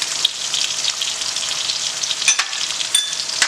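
Garlic-ginger paste frying in a pan with onions while chicken keema for rara kebab is cooked, a steady close hiss of sizzling with a few brighter crackles and pops, with no talking.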